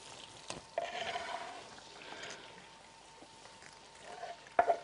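Onion cooking in butter with cinnamon in a pan, giving a soft, faint sizzle with light stirring scrapes and a couple of sharper clinks near the end.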